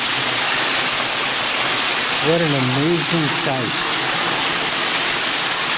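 Water running and falling beside a trail at the Norwalk Tunnel, a loud, constant broadband rush filling the scene, with a person briefly speaking over it midway.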